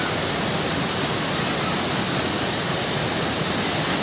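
The main waterfall at Kedung Pedut in Kulon Progo roars as a steady, dense, full-range rush of falling water, loud and close and unbroken, with no voices over it.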